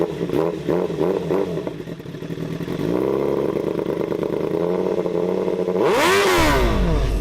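A modified Honda CBR1000RR with an Arrow exhaust idles roughly and loudly, then climbs into a sharp, rising rev near the end, with no talking.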